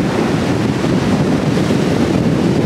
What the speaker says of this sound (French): Je vais dehors, il y a du vent, je ne sais pas du tout ce que ça va donner au niveau du son